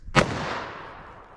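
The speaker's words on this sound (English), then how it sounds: "Let me shoot it one more time." A single sharp .357 Magnum revolver gunshot fired from a 4-inch barrel with a Winchester 110 gr load, a loud close crack followed by a long decaying echo outdoors.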